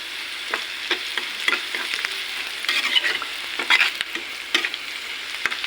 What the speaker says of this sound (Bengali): পেঁয়াজটা মোটামুটি ভাজা হয়ে গেল